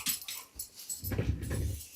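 A dog whimpers and whines in short, soft bursts, fairly faint and close, with some rustling underneath and no talk.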